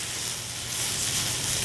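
Already-cooked potatoes sizzle steadily in a hot pan as they warm through, a continuous bright hiss that stays even throughout and has no voices over it.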